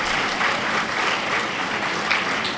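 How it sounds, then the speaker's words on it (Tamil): Steady audience applause at a Tamil pattimandram debate event in Dindigul, a dense continuous clatter of many hands clapping at moderate distance, with no speech over it. "தாராளமாக கைத்தட்டலாம்."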